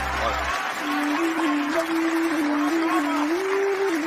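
Applause from an audience at a Hindi-Urdu poetry recital, steady and full throughout, with a sustained tonal voice or note running beneath the clapping.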